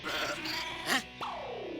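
A man mimics a goat's bleat, a short wavering nasal cry followed by a rising, drawn-out call, heard close over a busy room background.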